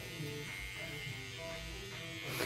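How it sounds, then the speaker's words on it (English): An electric hair trimmer buzzes steadily and close while shaping the hairline around the ear during a temple fade haircut, a continuous hum with slight shifts in tone as it moves, heard alone without talking. "And then shape it up with my trimmer, go around the ear."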